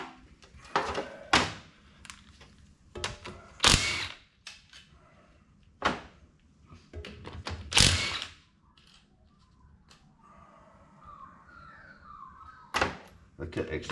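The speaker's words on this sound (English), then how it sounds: "rip these bolts out" Bolts being removed from the front pump of a TH350 automatic transmission: a series of sharp metallic clicks, ratchet-like clacks and clunks at close range, irregularly spaced with pauses between, with someone talking briefly.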